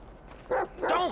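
A dog barking in Grand Theft Auto V, two short close barks or yips in quick succession over low game background noise.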